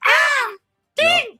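A person imitates a crow's caw with two hoarse, drawn-out voiced calls separated by a short pause, loud and close.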